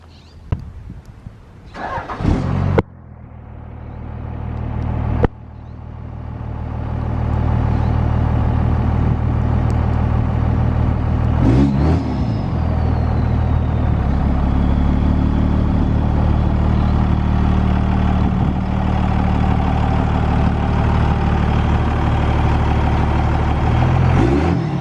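A 1966 International Loadstar 1600 truck engine cranks in a few short bursts, catches and starts, then settles into a steady, loud, close idle that runs on alone.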